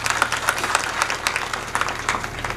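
Audience applause at a Marathi speech gathering, a steady patter of many hands clapping at moderate distance, fairly faint and sustained throughout.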